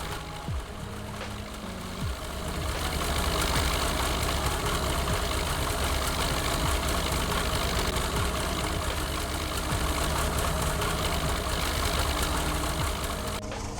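A tractor engine runs steadily during potato planting, a continuous loud mid-pitched drone with a rougher rise after the first couple of seconds and a knocking, vibrating texture throughout, with no talk.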